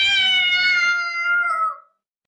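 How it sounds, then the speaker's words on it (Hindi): A cat lets out one long, loud meow, a clear tonal wail that holds and bends slightly before cutting off into silence, alone and close. "वो जोर जोर से म्याऊं करने लगती है"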